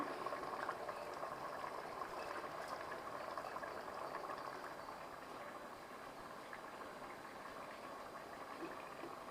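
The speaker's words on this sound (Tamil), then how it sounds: "ஒரு தேர்ட்டி மினிட்ஸ் ஊற வச்சுருக்கிற பாஸ்மதி அரிசியை நான் ஆட் பண்ணிடுறேன்" Water boils for vegetable biryani as soaked basmati rice is added, a faint steady bubbling and churning of liquid with no voices.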